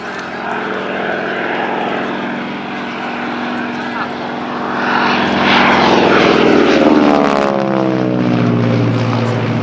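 A North American T-6 Texan (Harvard) propeller aircraft passes at an airshow, its loud, droning radial engine note swelling and then shifting pitch as it flies by, with a commentator's voice heard over it.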